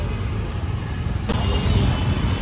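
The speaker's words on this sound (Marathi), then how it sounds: "आज सॅटर्डे असल्यामुळे खूप ट्रॅफिक आहे" Saturday road traffic passes near the main entrance gate of the Upvan Festival in Thane, a steady broadband rumble of vehicles with one brief sharp knock partway through.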